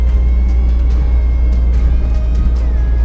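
Engine of a 1989 Toyota Starlet GT heard from inside while driving, a loud, steady low rumble with faint whining tones above it and slight fluctuations in load.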